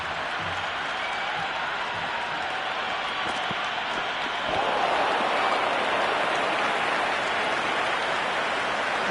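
Stadium crowd roar in the cricket video game Cricket 26 makes a steady broadband wash like applause. It grows slightly louder about halfway through, and a commentator talks faintly underneath.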